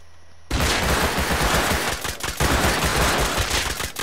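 Sustained rapid gunfire in the survival game Rust on console, a dense loud stream of shots starting abruptly after a brief quiet and continuing almost without pause.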